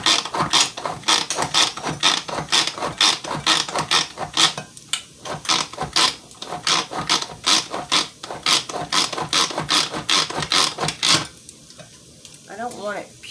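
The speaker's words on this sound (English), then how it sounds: "I have the fresh strawberries in the manual food processor" Fresh strawberries being chopped in a hand-pulled manual food processor, a fast run of rhythmic ratcheting, scraping strokes with brief pauses, close and fairly loud, ending with a short squeaky whir.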